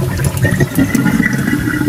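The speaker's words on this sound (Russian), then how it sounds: "Да я же просила не включать воду просто так." Water running steadily from a tap in the horror video game Paranormal, a continuous near rush of flow with no voices over it.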